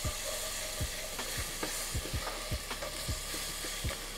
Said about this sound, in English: Kind of gotta smash it with your spatula a little bit